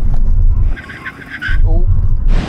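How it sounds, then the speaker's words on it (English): An Audi RS7 tuned to 700 hp brakes hard in a full emergency stop from 70 mph, loud road and tire roar easing briefly and then surging again, heard under excited talk. "Full emergency stop when you hit the line from 70 miles an hour."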